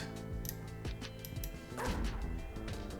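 A cartoonish dog bark sound effect from the dice-based roguelike card game Dog Witch plays over steady background game music, with no one talking.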